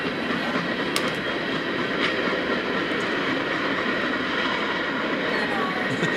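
Freight train rolling steadily past on a railroad, a continuous loud rumble of wagons with a few sharp wheel clicks and squeals on top, close by throughout.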